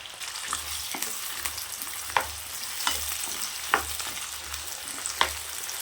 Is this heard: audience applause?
no